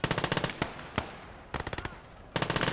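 Machine gun bursts from the World War II video game Gates of Hell rattle in rapid strings of loud shots, broken by single cracks and short pauses, then a final burst.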